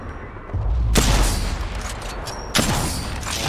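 Heavy gunfire from an Apex Legends match, two loud blasts about a second and a half apart, each with a long booming tail over a steady rumble of background noise.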